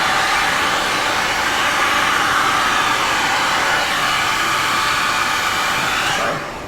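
A blow dryer blows air in a steady, loud, close whooshing roar used in a one swipe paint challenge, holding constant for several seconds before tapering slightly at the end.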